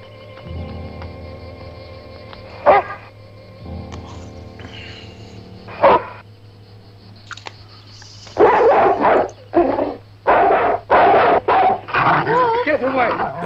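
A dog barks in a werewolf horror movie, several sharp yips and barks clustered near the end, loud and close, with shouting voices and score before and between them.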